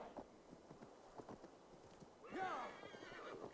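A horse in Assassin's Creed Valhalla clip-clops over stone and gives a sharp whinny partway through, with someone talking quietly underneath.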